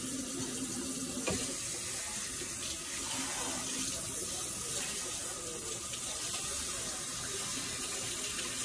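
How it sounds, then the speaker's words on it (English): Water runs steadily from a sink tap while hair is rinsed, a constant close hiss with faint splashing and the odd knock, no talking. "I'm rinsing my hair out in the sink."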